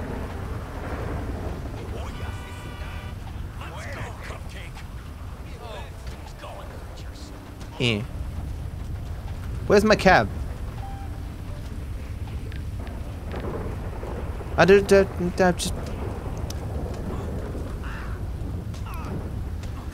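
Rain hisses steadily in GTA V while thunder rumbles in a few loud bursts, heard under someone talking during a street fight with a taco truck driver.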